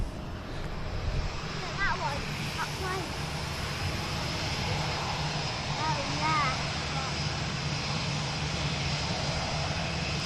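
Gulf Air airliner taxiing along a taxiway at an airport, a steady distant engine rumble and whine holding evenly throughout, with faint chirps over it.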